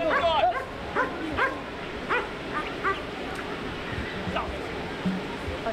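A police training dog barks in sharp repeated bursts during a bite demonstration at an outdoor community safety event, the barks fairly close over a constant wash of background noise.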